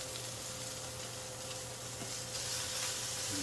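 Tunisian-spiced meatballs fry in a pan with a steady, even sizzle and hiss that holds throughout, heard up close with no voices.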